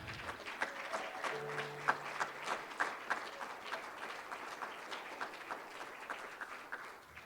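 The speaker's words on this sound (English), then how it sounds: "Can you please give them a round of applause?" Applause from a conference session audience, a steady wash of clapping held at a modest, somewhat distant level throughout with no talk over it.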